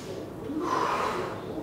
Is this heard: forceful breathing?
yes